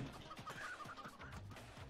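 Chickens cluck and squawk in a farmyard level of the video game Moving Out, a quick run of clucks with light game clatter, nearer than the surrounding noise, no talk.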